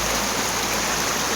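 Rushing, gurgling water of the Ulhas river, a loud steady broadband roar close to the microphone with no pauses.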